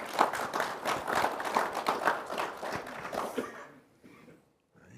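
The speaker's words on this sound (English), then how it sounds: "getting claps" Audience applause at an FMCSA leadership panel discussion, a steady burst of clapping from a seated crowd that carries for several seconds, then fades out to near silence.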